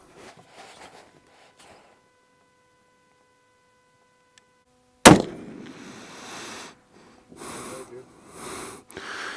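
Rifle fired while sighting in a scope outdoors, a single sharp loud shot cracking after a quiet stretch, followed by bursts of talking and rustling handling noise.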